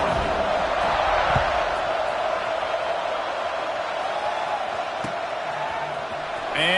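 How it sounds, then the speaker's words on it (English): Stadium crowd in an NCAA football video game holds a steady, loud wash of buzzing noise, far-off and continuous throughout, with faint bumps and whoops rising from the mass. "this crowd is buzzing after that last score"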